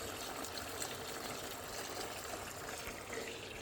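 Water poured out for a dog at an off-grid tiny house cabin, a soft continuous trickling stream heard close and steady for a few seconds with no talking.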